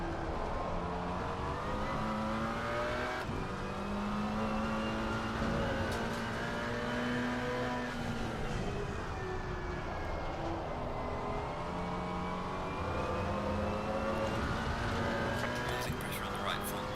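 A Maserati GT4 race car engine in Assetto Corsa Competizione drones steadily and loudly throughout, its pitch rising and falling with shifts as speech runs over it.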